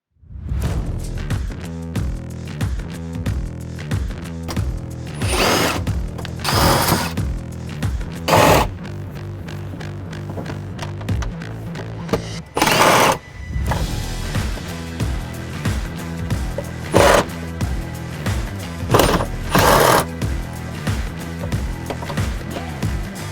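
Screws are backed out of the center console of a 2020-2026 Polaris RZR Pro XP with a power driver, repeated short ratcheting whirs in quick rhythmic bursts, close and fairly loud, with a few louder scraping bursts between.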